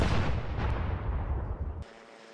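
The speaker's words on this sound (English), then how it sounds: "the real cannon fire, as Donald Trump was given a gun salute welcome" Ceremonial cannon gun salute welcoming Donald Trump on a state visit to Britain at Buckingham Palace: one heavy, sustained boom rolls and rumbles loudly, then cuts off abruptly into quiet, with no talk.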